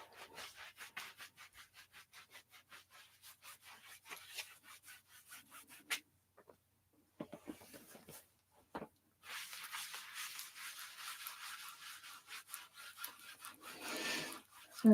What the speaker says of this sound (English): And then let's rub the lower back.